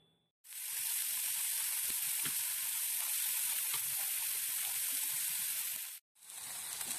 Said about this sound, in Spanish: voy a echar un poquito de aceite a un sartén y vamos a empezar a freír lo que son los trozos de bistec